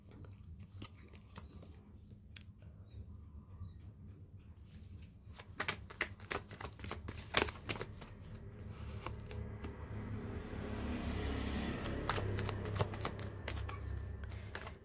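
Tarot cards being shuffled and drawn for a Gemini horoscope reading, a run of soft riffling and snapping card flicks that builds into a denser, louder shuffle toward the end, close and with no talking.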